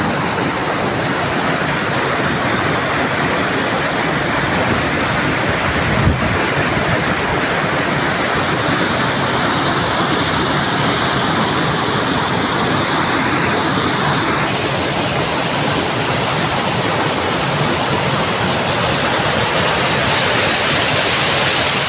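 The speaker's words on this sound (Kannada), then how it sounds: "ಇದು ಜಲಪಾತ" A waterfall roars steadily and loudly, a broad continuous rush of falling water that fills the whole stretch without pause, with no voices on top.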